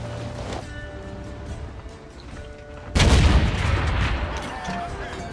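Artillery fire in the tank battle game World of Tanks: after a stretch of low engine rumble and ambient noise, a loud heavy blast erupts and rolls on as a sustained, booming roar that slowly fades.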